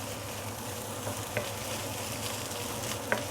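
Yangzhou fried rice with spring onion is stir-fried over medium-high heat, giving a soft, steady background sizzle with a couple of light clinks from the utensil.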